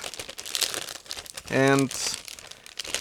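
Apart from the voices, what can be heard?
opening a resealable plastic bag of model kit sprues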